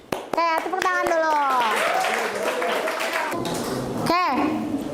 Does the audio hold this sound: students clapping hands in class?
yes